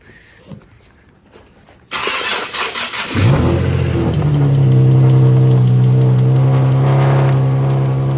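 A car engine with a freshly replaced serpentine belt, tensioner pulley and idler pulleys cranks and catches, then revs up and settles into a loud, steady run close by.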